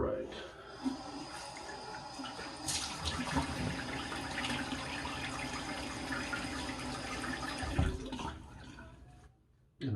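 Running tap water splashes steadily while a face is wetted for a travel shave with a Vincent VT-1321 shavette, a continuous close rush of water with a voice talking over it, cutting off abruptly near the end.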